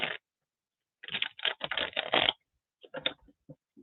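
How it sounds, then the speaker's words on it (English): Tarot cards are shuffled by hand in quiet bursts of crisp riffling and flicking, several short runs separated by silent pauses, close to the microphone with no voices. "My cards don't want to shuffle for me right now."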